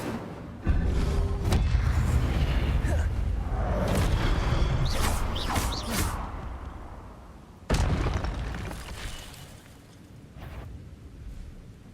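An Incendio fire spell is cast in the video game Hogwarts Legacy. A heavy rumbling fiery burst roars for several seconds, then a second sharp blast follows with whooshing tails. No voice is heard.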